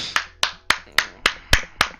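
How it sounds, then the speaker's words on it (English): Eight sharp hand claps in a steady, even rhythm, close and loud, each with a short room decay, during a casual indoor talk show recording with no speech over them. "Why you clapping?"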